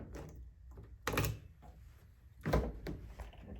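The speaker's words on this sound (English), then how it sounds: "And then we'll use this key to unlock the driver's door." A Dodge Journey driver's door is worked with the emergency key, giving a few close metallic clicks and two louder thunks of the lock and handle.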